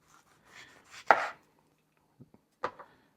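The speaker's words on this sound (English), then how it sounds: "If you guys gotta cut onion like this," A knife cuts an onion into thin slices on a board for cheeseburgers, giving a few sharp, close chops separated by pauses, with one stronger cut early on and quieter taps later; no talking.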